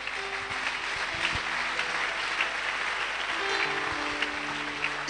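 A church congregation claps during a French-language worship service, producing dense, sustained applause from a large crowd in a reverberant hall, with faint organ or keyboard tones underneath.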